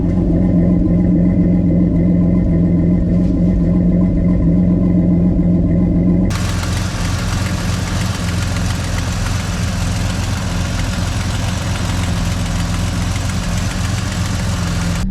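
A turbocharged 3800 V6 Chevrolet Camaro with a custom 3-inch exhaust idles with a deep, rumbly exhaust note, loud and close, steady throughout with a shift in tone partway through.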